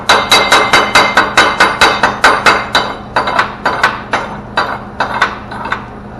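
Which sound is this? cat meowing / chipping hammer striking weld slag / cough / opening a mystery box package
chipping hammer striking weld slag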